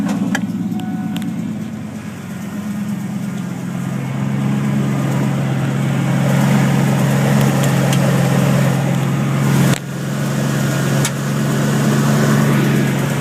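A steady Ford 351 Windsor V8 engine idling up close, a continuous low rumble with a faint rapid ticking running through it and a brief dip partway through.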